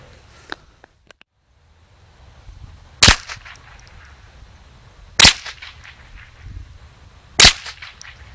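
Three sharp, loud gunshots are fired at a paper target about 10 yards away while a new Barska red dot sight is tried out. The shots are spaced about two seconds apart, with quiet handling noise between them.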